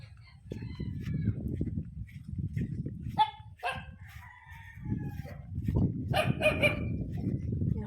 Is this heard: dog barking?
yes